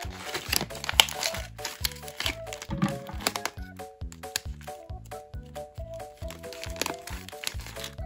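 Crinkling and crackling of a Bakauke rice cracker snack package being cut open, close and continuous, with rhythmic plastic rustles over faint background music.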